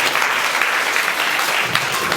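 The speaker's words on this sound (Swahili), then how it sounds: "Sio vibaya tukipiga tena makofi kwa Yesu." A church congregation applauding, dense and steady clapping filling the room at close range and sustained without a break.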